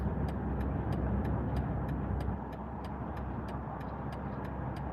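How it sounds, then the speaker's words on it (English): Steady wind roar inside a small convertible at speed, a dense broadband rush under road and engine rumble, faint and continuous with a regular light ticking throughout. "I don't know if you guys can hear that wind,"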